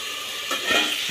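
Potatoes frying in a pan, a close bright sizzle with a stirring scrape near the end, no talk.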